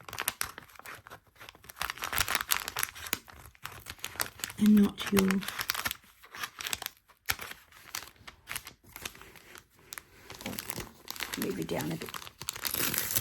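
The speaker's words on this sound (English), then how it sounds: "So we just tear it away." Tear-away stabilizer paper is ripped off a topstitched quilt, giving crisp crinkling and tearing in bursts throughout, close and fairly loud, with a person speaking briefly in between.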